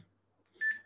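Workout timer beep, a single short electronic tone sounding once after near silence, clear and close in a quiet room.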